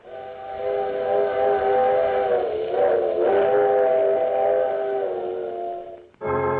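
In an old-time radio drama, a train rumbles steadily while a loud, sustained steam whistle sounds over it, then briefly drops out before resuming near the end.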